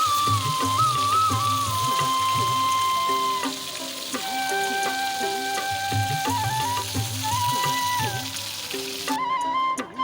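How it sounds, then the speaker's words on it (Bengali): Pakal fish sizzling in hot oil in a kadai, a steady crackling fry running the whole time beneath continuous background music, with no voices. "আর মাছগুলো কিন্তু এখন লাল লাল করে ভেজে নেব।"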